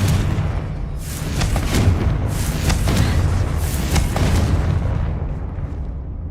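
A Confringo blasting curse in Hogwarts Legacy erupts in a string of loud, booming explosions with rumbling bursts, building through the middle and then fading off toward the end with no talk.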